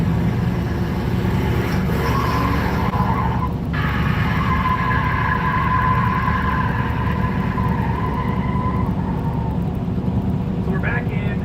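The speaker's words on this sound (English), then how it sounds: "the truck has been revived and it's motoring down the road" A revived V8 truck with a full-pipes exhaust motors down the road, a continuous loud engine drone with rising tonal shifts through the run while a person talks over it.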